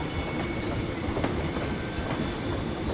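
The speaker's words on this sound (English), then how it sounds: "Now it's the fast train." A fast roller coaster train in Planet Coaster runs in a steady, dense roar of rolling wheels and track rumble with faint clatter, loud and continuous throughout with no talking.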